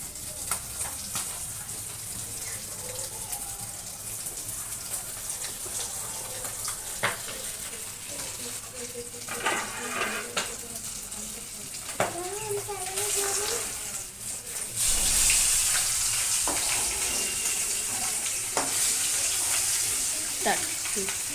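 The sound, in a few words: fish frying in oil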